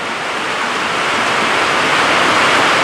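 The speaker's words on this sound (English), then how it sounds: "Sorry about the noise, it's raining again as usual." Rain pours steadily outside a workshop, a dense, loud, even hiss that fills the whole moment with no breaks and no voices.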